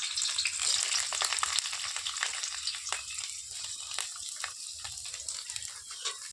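Beans and carrots hit hot oil in a pan and set off a loud, bright sizzle and crackle that stays dense and steady, with faint stirring scrapes and no talking.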